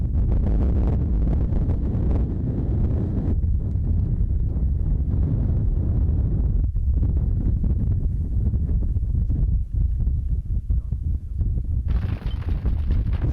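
Strong wind roars and buffets across a high, frozen mountain pass of the Bayan range, loud and continuous, with gusts battering the microphone throughout and no voices.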